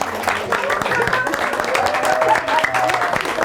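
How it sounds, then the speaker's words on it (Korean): Studio audience claps in a scattered burst on a Korean television show, mixed with voices talking over the clapping throughout. "박수 받으시네요."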